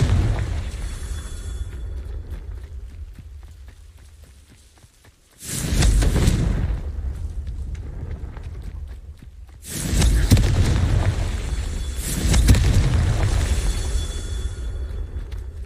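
Confringo spell blasts in a magic video game erupt as loud, rumbling booms with a whooshing burst, three explosions spread across the span and each rolling off into a sustained low roar.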